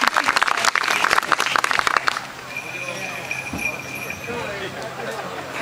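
An outdoor Renaissance fair audience bursts into dense clapping for about two seconds, loud and close, then it stops and a quieter murmur of people talking follows.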